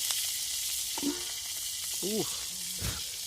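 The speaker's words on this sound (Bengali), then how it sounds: "এই যে পেঁয়াজটাকে দেওয়া হচ্ছে।" Onion dropped into hot oil for a fried red amaranth and dried fish dish, a close, steady sizzle and crackle running throughout, with faint background voices and a short tonal squeak.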